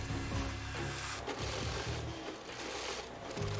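Industrial sewing machines stitching tough military shelter jackets with reinforced seams and plastic thread, a continuous close mechanical whir and rattle filling the workshop without pause.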